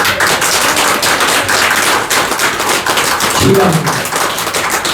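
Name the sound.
congregation clapping hands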